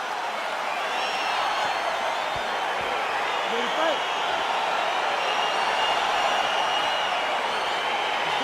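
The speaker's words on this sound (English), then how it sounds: "crowd getting excited as this fight gets underway" Arena crowd in the UFC 4 fighting video game cheers and roars steadily throughout as a bout gets underway, a dense continuous wash of noise under a commentator's voice.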